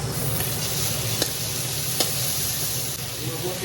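Ginger garlic paste sizzling among fried onions in a pan for a dry fish curry, a dense continuous hiss broken by a couple of soft utensil clicks as it is stirred; close and steady with no talking.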